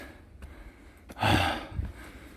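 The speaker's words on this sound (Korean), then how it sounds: "지금 저의 벅찬 숨소리가 들리십니까?" Heavy, laboured breaths from a hiker climbing Mudeungsan mountain, a few loud close exhales and gasps with pauses between them.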